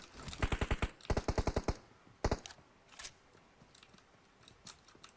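Bursts of rapid automatic gunfire from an online multiplayer shooter game, two quick rattling volleys followed by a single heavy burst and scattered lighter shots, fairly close and loud with no talk over it.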